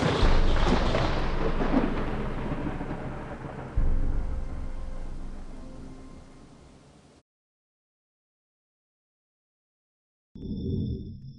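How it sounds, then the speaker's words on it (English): Thunderstorm with heavy rain and thunder: a loud, dense rumbling roar that swells again midway and slowly fades to silence, then a brief return of rain and thunder. "So he went out in the storm, alone, except for Kind and his old fool."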